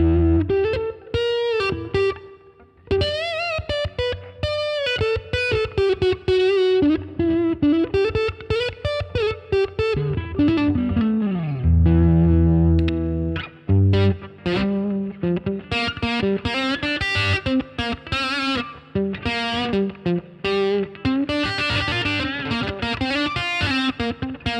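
Heavily distorted electric guitar through a Marshall DSL1CR 1-watt amp with reverb, playing continuously with a wet, spacious reverb tail, loud and up close, with sustained chords and a brief low rumble midway.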